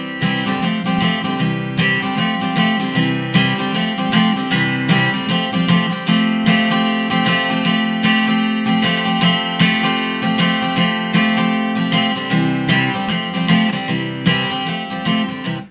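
Acoustic guitar strumming the verse chords of a song in a steady, even rhythm, full and close, with no voice over it.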